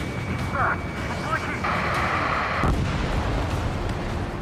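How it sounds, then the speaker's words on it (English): A missile explosion in the jet combat video game Ace Combat 7, heavy booming bursts amid engine roar and radio chatter, loud and close. "Gargoyle 1, caution, missile!"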